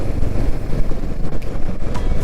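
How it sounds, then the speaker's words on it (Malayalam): Cold wind rushes past on a misty mountain road on a ride to Munnar, a loud, gusty low roar buffeting close to the microphone throughout, with no talking. "അത് തണുത്ത കാറ്റും മിസ്റ്റും"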